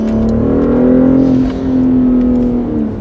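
Intake noise from a BMW X5 engine under acceleration while driving, a steady loud droning whir that rises and holds in pitch for a few seconds, heard from inside the cabin with no talking.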